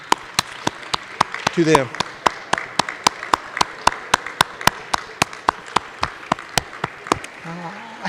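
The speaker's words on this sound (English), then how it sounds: "let's give them applause" A graduation ceremony audience claps for graduates' families in a steady, evenly spaced rhythm of sharp claps that runs throughout, with a voice speaking over it now and then.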